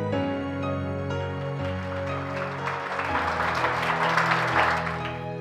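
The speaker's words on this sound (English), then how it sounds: "Please give him a big round of applause." Audience applause at a school scholarship presentation, a modest wash of clapping that rises gently near the end beneath louder sustained background music.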